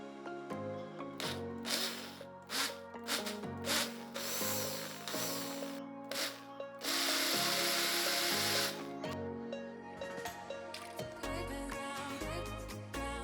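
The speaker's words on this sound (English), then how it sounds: "I'm going to pulse it a few times, stop it, pulse it, and then I'm going to take it out." A blender pulses an acai smoothie with almond milk in several short loud bursts, each followed by a pause. One sustained whirring run comes in the middle, all close up with no talk.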